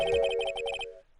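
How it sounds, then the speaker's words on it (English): A cell phone ringtone from the Phoenix Wright video game plays as a quick run of bright, evenly pulsed electronic beeps over a sustained tone, then cuts off after about a second. "I heard a phone ring just now."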